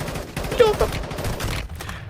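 Rapid bursts of gunfire in Warzone Mobile crackle continuously, loud and busy, with a voice speaking Ukrainian briefly mixed in underneath.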